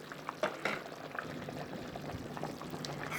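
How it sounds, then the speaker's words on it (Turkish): A pot of Turkish gülüklü soup with mint and lemon juice is stirred in a home kitchen in Alanya, Antalya, giving a faint, soft simmering bubble with light scraping and liquid swishes close by. "Çorbamı karıştırıyorum."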